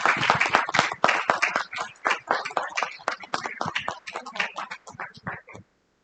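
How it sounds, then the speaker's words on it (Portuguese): Sparse, uneven clapping from a conference audience, loud individual hand claps in irregular bursts that thin out and stop after about five seconds. "Uma salva de palmas para a professora doutora Isabel Ferreira."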